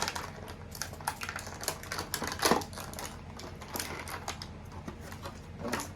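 Snipping a NECA TMNT x Universal Monsters action figure free from its plastic packaging, a quick run of sharp clicks and snips at close range, irregular in rhythm, with no voices.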